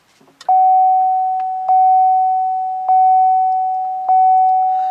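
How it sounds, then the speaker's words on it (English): After a soft click, an electronic tone sounds four times at an even pace as a 2016 Chevrolet Volt powers up. Each chime rings steadily and fades slightly before the next, close and clear. "what you're hearing is just a bunch of whirring noises"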